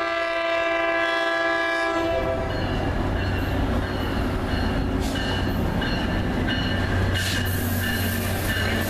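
A CSX freight train blasts its horn, a sustained multi-tone chord for about two seconds, then rumbles past loud and close with heavy wheel and rail noise and steady roaring clatter.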